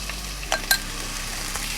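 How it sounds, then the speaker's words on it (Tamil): Onions and tomatoes with a pinch of salt sautéing in a wok-style pan for kothu parotta, giving a soft, steady sizzle with two brief spatula scrapes near the start. "இன்னொரு வாணலி அடுப்பில் வச்சு வெங்காயம் மற்றும் தக்காளியை வதக்கி அரைக்க போகிறோம்."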